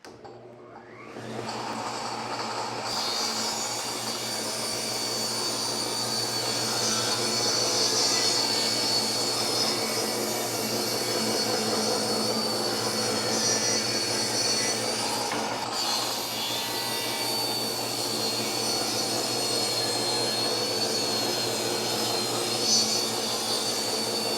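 A table saw rips two boards to four-inch width, the motor spinning up and then holding a loud, steady whine with a continuous cutting roar for over twenty seconds, close and alone.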